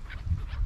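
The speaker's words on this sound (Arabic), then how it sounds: "ليك ليك ما احلاها، ليك الطيور" Two short honking bird calls, like geese or ducks, sound out against a low rumbling background in Uppsala, Sweden.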